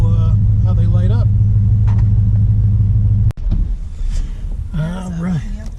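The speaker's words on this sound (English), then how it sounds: "So now I'll go ahead and take the truck around the block." The engine of a dirty old 1999 Dodge pickup truck rumbles at low idle, with a door clunk partway through, while someone talks over it.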